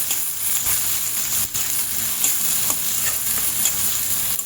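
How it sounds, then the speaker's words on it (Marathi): Crushed garlic cloves and finely chopped onion sautéing in oil for tomato chutney: an even, close sizzle broken by regular spatula scrapes and taps. "लगेचच बारीक चिरलेला कांदा पण छान तेलावर परतवून घ्यायचंय"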